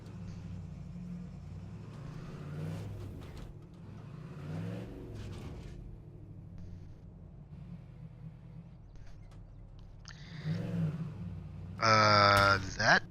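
Truck engine in the State of Decay 2 video game, a low rumbling idle with intermittent revs that swell louder toward the end, with a burst of sharper mechanical noise near the close.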